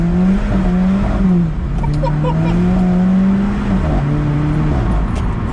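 An Alfa Romeo 4C sports car engine revs hard and climbs in pitch, droning loudly and steadily close by, with short dips as it shifts and pulls again.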